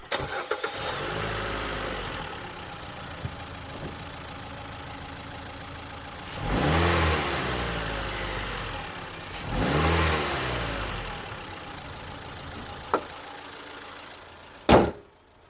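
A Mitsubishi ASX 2.0 engine idles steadily, rising into two strong revs a few seconds apart, then settles back, with a sharp knock near the end.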